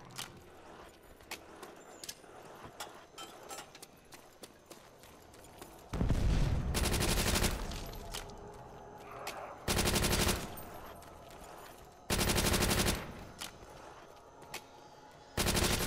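Thompson submachine gun firing in Call of Duty: World at War zombies mode, several loud sustained automatic bursts lasting one to two seconds each, spaced apart, with scattered game clicks and effects between them.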